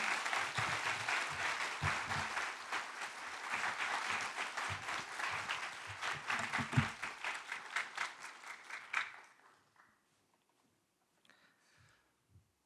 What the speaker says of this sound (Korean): 我们用掌声欢迎他。